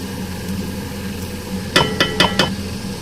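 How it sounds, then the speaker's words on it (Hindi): Fried chicken pieces being stirred into butter chicken gravy in a pan, with a quiet steady simmer followed by four sharp spoon-on-pan knocks in quick succession near the end. "सब चीज़ों को अच्छी तरह से मिक्स करना है चिकन के साथ।"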